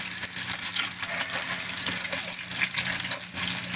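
Eggs frying in oil in a pan for an Afghani egg curry, with water spattering in a dense, continuous crackling hiss that stays loud and close throughout.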